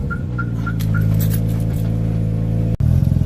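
A Mazda RX-7 rotary engine on a cold start idles roughly, then revs up with a rising growl, holds a steady drone, and cuts off abruptly before rumbling again.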